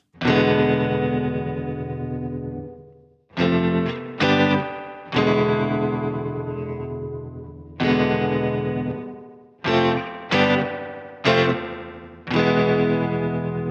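Electric guitar chords and short stabs run through a Sequential Pro 2 sustain with a wobbling, pulsing tremolo from an LFO modulating pan, with a reverberant tail, played alone with no talking.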